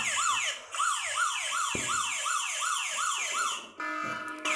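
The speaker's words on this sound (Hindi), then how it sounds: "अब मोबाइल पूरी तरीके से लॉक हो गया है और इस तरीके से सायरन कर रहा है।" A loud electronic anti-theft siren wails nearby from a locked mobile phone in rapid repeating up-and-down sweeps, continuous and shrill, shifting to a different tone at the end.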